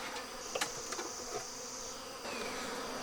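Honeybees buzz in a hive on the verge of being opened, a steady close drone with a few brief louder flyby whines and no voices.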